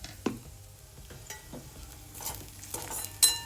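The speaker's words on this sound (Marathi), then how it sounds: "कांदा पण आपला फ्राय झालेला आहे।" Onions frying in a masala gravy with garlic are stirred in a pan, giving soft, close scrapes and gentle sizzling with a few sharper utensil knocks, fairly quiet with no talk.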